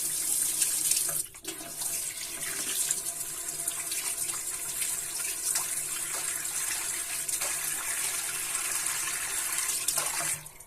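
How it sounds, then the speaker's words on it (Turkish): Tap water runs steadily into a bathroom sink while someone washes their face after a shave, a continuous close splashing hiss with brief dips and small splashes from hands in the stream. "Tamam şimdi tekrardan bir yüzümü yıkayayım."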